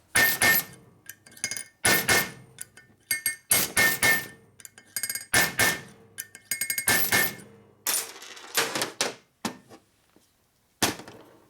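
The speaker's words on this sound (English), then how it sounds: "Our peening tool. See if it works on a Sportsters." Peening tool struck repeatedly against a 1986 Harley-Davidson Sportster 883 Evolution flywheel crank during a rebuild, giving a series of sharp, loud metallic hammer hits in irregular bursts with brief pauses, close by and alone.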